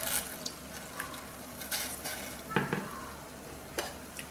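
Herbal leaves simmer in about two tumblers of water in a pot, a soft continuous bubbling and sizzling hiss with a few sharper pops and clicks scattered through.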